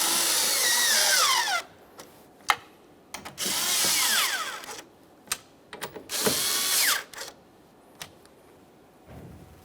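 Power tool snugging bolts on a towing mirror set for a 1999-2006 Chevrolet Silverado 1500, heard as three loud whirring drill bursts with ratcheting clicks and small knocks between them, with no talk.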